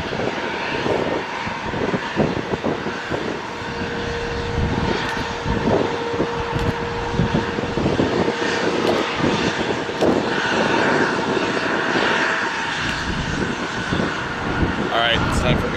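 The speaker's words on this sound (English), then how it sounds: "First, we have a Delta airline." A Delta airliner jet passing at Minneapolis airport, a loud, continuous engine roar and rumble that holds steady across the whole stretch, with voices talking underneath.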